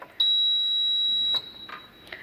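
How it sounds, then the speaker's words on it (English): A relay-driven buzzer triggered by a pressed switch gives one steady, loud, high-pitched electronic tone lasting about a second, then cuts off into quiet room noise. "can you hear the buzzer sound as well as LED glowing?"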